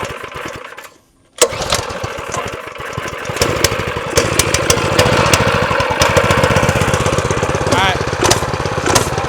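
Gas mini bike with its choke on, sputtering briefly, cutting out, then starting and settling into a loud, steady idle with a rapid throbbing pulse close by.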